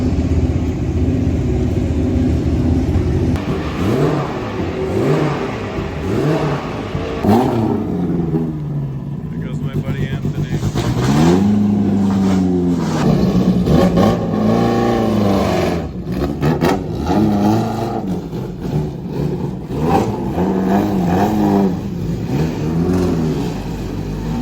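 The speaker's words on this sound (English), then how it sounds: "My buddy Kyle's about to go out in this Can-Am, hopefully beat Zak Brown." A Can-Am race car engine revs hard and roars continuously on track at a historic motorsports reunion, loud and close, with rising and falling pitch sweeps and people talking over it.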